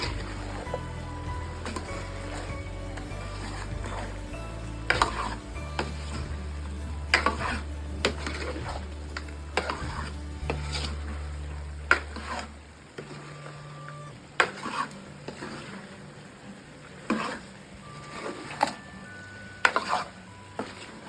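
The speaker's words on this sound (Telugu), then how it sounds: "కారం వేసుకొని కలుపుకుందాం." Chili powder gets stirred into a country chicken curry in a pan, with a spoon scraping and clinking against the metal in irregular, close strokes over a low simmering hum that stops partway through.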